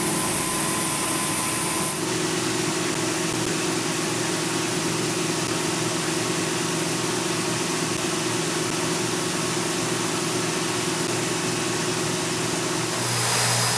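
A ski stone grinding machine at a ski shop runs steadily and loudly for the whole stretch, a constant motor hum with a broad grinding hiss and a high whine near the start and end.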